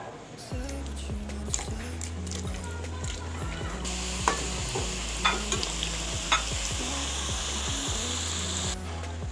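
Namak paare frying in a pan of oil produce a constant bubbling hiss up close, with a few sharp clinks from a utensil and a low steady hum beneath.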